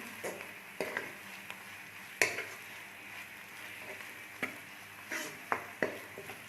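Cumin and dried coriander stirred in a hot pan: quiet frying hiss broken by sharp spatula scrapes and clicks at irregular intervals, with no talking.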